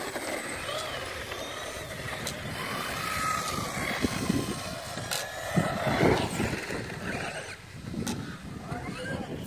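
Traxxas 4Tec 2.0 Ford GT RC car on drift tires runs continuously, a steady mid-loud whirring motor and tire scrub with swelling passes and brief sharp spikes, no talking.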